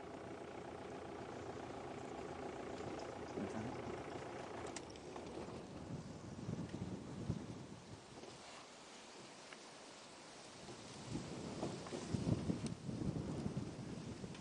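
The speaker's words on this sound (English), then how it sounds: "the wind doth blow, Brian, with a great enthusiasm." Wind buffets the microphone in gusts during an open-vehicle safari drive past a herd of buffalo, a low rumbling roar with a faint engine idle beneath, rising and falling without talk.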